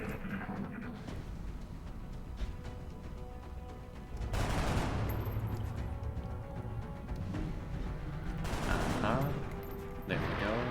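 Bursts of weapon fire and impacts in the XCOM: Long War strategy game, dense rattling volleys over a constant rumbling bed, with louder blasts in the middle and near the end, and someone speaking over parts.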